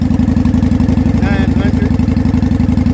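A small 900 cc beginner motorcycle idles close by, a steady, loud, rapid low putter throughout, with brief speech-like sounds partway through.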